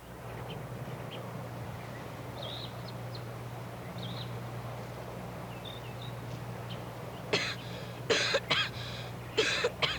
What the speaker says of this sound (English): This girl suddenly begins to cough.